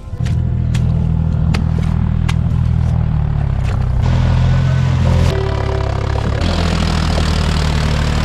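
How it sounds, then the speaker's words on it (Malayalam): A tractor sunk in flooded paddy-field mud revs loudly and steadily close by, its low engine drone shifting pitch in stages as the throttle is pushed, with no talk over it. "ഈ ട്രാക്ടർ താന്നു പോയിട്ടുണ്ട്"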